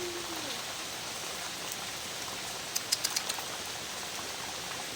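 Morning rain falls in a steady, even hiss outdoors, with a brief cluster of light taps partway through.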